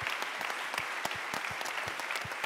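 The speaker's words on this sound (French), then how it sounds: "vous pouvez nous applaudir, bien de sûr" Audience applause at a Citeo Circular Challenge event, a steady patter of many hands clapping at moderate distance with no talk over it.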